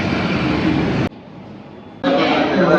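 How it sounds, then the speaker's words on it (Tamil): Chennai metro train noise: a loud, steady broadband rumble and whoosh, breaking off abruptly for about a second into a quieter hum before the loud rush returns. "சென்னை மெட்ரோவில் வந்துட்டோம் மெட்ரோக்கு தான் நிற்கிறோம்"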